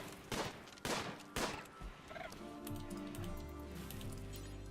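Gunfire aimed at a tortoise in RimWorld: three loud broadband shots come in quick succession near the start, then a low droning game sound carries on underneath.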